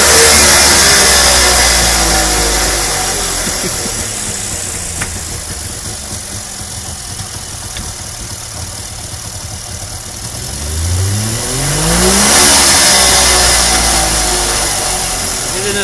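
Syrena 105L car engine cranking and revving loudly up close, with rising and falling engine pitch sweeps, a dip in the middle and a renewed rev near the end.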